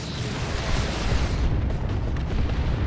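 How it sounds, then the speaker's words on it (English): Cyclone missile launcher explosions in Warhammer 40,000: Dawn of War 2 form a loud, dense roar of booming blasts that runs without a break for about three seconds. "Cyclone missile launcher spoiling the repairing going on."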